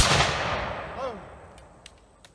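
A musket volley fired on command cracks once with a sharp, loud burst that fades into a reverberant decay, followed by faint clicks and a brief voice.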